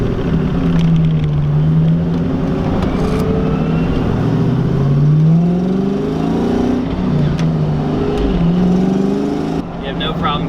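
A 500whp Terminator Cobra's engine pulls hard from inside the car, a loud sustained roar rising and falling in pitch through several gear pulls, with a voice talking over it.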